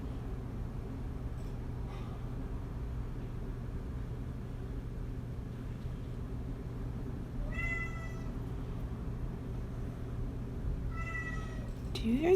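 A cat meows indoors in two short bursts partway through, then again near the end, over a steady low room hum with no talking.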